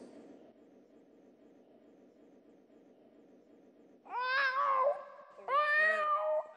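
A cat meows twice, loud and close, during a school skit at an Islamic school's annual day, following a stretch of low murmuring background noise.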